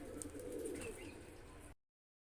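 A pigeon coos in soft, low repeated calls, close by with some faint background sound, lasting under two seconds.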